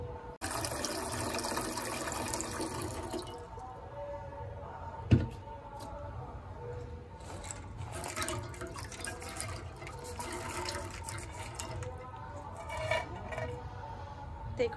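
Water poured into a pot of chickpeas on a lit gas stove, a steady splashing trickle with faint clinks and background hum, one brief knock partway through.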